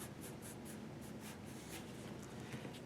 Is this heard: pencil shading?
yes